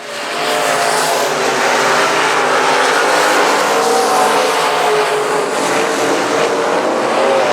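Limited modified race cars roar around turns 3 and 4 at South Texas Speedway, a loud, sustained engine drone that fills the whole stretch without a break.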